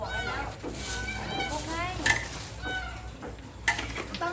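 Minced pork for larb stir-fried in a pan over a charcoal stove, with soft scraping, clinking and a faint sizzle running beneath people talking nearby.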